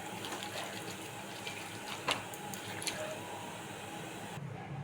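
Mustard oil trickles and splashes onto chicken marinating with Kashmiri chilli powder and garam masala, a soft continuous liquid pour over a steady background hiss with one brief louder splat midway.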